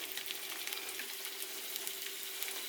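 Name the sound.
crab cakes sizzling in frying pan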